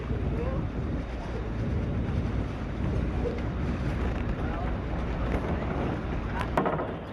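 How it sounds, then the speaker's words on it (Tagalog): Outrigger boat heading out for island hopping near Gigantes Island, a steady loud rumble mixed with wind buffeting and water wash throughout, no speech. "Paalis na ang bangka."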